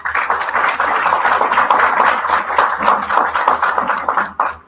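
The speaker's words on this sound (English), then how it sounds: "You should also give yourself a big round of applause for being engaged" Audience at a sheriff candidates' town hall meeting claps in a dense, close burst of applause lasting several seconds before cutting off abruptly.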